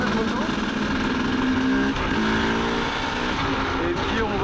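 A 2004 KTM 250 EXC motorcycle engine warming up on tarmac, a loud continuous buzzing drone with slight pitch wavers and wind noise, running steadily from start to end.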